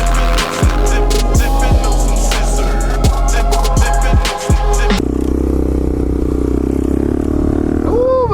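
Engine of a street-legal 50cc pit bike revving while being ridden, a loud, steady buzzing drone with rhythmic clattering bursts in the first half, then a smoother continuous roar.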